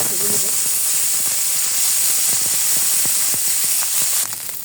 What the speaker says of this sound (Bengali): ফ্রাই প্যানে তেল দিয়ে দিয়েছি তেলটা গরম হয়ে গেছে